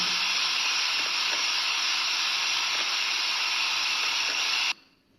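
An electric mixer whips chantilly cream at maximum speed, a steady loud whirring hiss that runs unbroken for several seconds, then cuts off abruptly.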